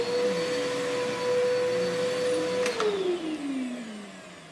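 A Bissell Powerforce bagless vacuum cleaner runs alone with a steady, loud motor whine that holds level for a few seconds, then drops in pitch as it is switched off and winds down.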